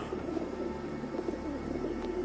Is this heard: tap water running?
no